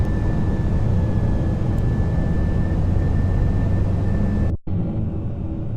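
Airbus A320 in the Prepar3D flight simulator with the gear going down and flaps extending: steady loud cabin rumble with a thin whine, then an abrupt dip and shift in the engine roar near the end.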